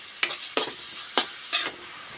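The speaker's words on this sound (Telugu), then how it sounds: "ఉల్లిపాయలు బాగా వేగాలండి." Sliced onions with turmeric and salt fry in a hot pan, a steady sizzle punctuated by four sharp stirring scrapes at regular intervals, close and fairly loud with no talking.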